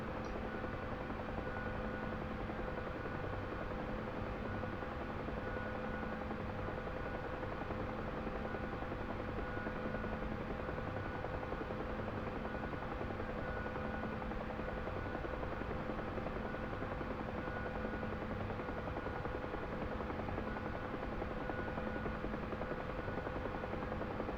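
A Huey gunship in a video game drones steadily as it picks up speed, a constant dense rotor and engine roar with steady tonal hum throughout, loud and unbroken.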